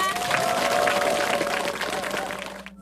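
Audience at a KBS Daegu radio event applauding before a performance, dense continuous clapping and crowd noise, loud and steady, tapering off abruptly at the end.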